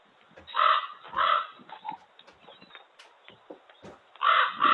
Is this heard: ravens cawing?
yes